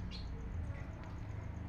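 A caged hill myna utters a few short, fairly faint chirps and chatter over a low, steady background hum.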